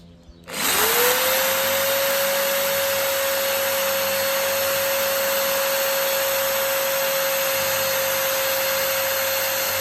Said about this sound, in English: So I just need to drill a pilot hole.